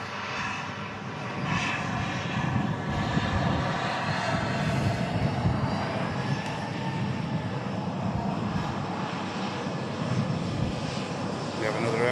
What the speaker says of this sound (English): we have another aircraft about to touch down. Turkish A350, next arrival.